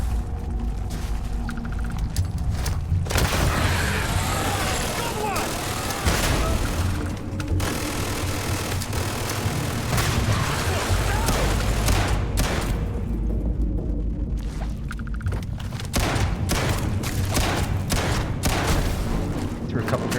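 A Starfield video game firefight: continuous rapid gunfire and thudding grenade explosions, loud and dense throughout, with a few brief lulls and voices talking over the action.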